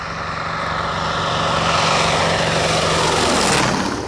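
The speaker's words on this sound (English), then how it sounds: "You've got to be able to power that airplane up." A Corsair fighter plane's engine and propeller drone loud and steady throughout, swelling slightly as it passes close, with the pitch dropping near the end.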